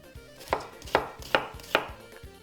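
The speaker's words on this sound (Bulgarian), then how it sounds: "Сечкаме лука, както казват местните." A knife chops onion on a cutting board while making Macedonian baked beans (tavče gravče). About five evenly spaced, crisp thuds fall roughly every half second, close and fairly quiet, with no talk.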